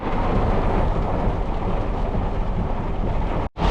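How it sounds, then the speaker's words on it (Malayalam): Heavy rain pours down during a thunderstorm in Kochi, a dense, loud, steady roar that fills the whole stretch before cutting out briefly near the end. "ഈ വർഷത്തെ അടിപൊളി മഴ"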